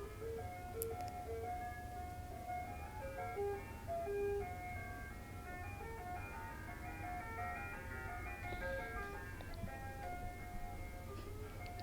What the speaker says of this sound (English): it's an ice cream truck